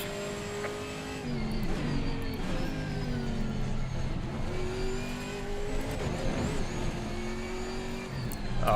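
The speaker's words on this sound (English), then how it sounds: "Faster car coming up behind you." GT4 race car engines at Imola in the Assetto Corsa Competizione video game: a loud, continuous engine drone rising and falling through gear changes, with another car close behind and occasional tire noise.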